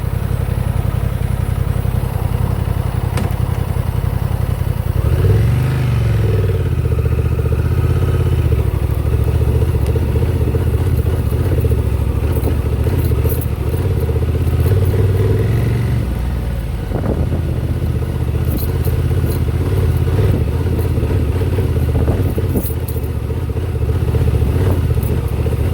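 A 2024 Honda Transalp 750 motorcycle rides off road on stock setup, its engine droning loud and steady throughout with revs rising and falling, gear changes and clattering bumps from the rough ground.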